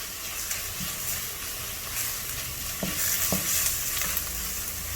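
Squid with chili and basil sizzles steadily in a hot pan while being stir-fried, with a constant frying hiss and occasional scraping clicks of the spatula.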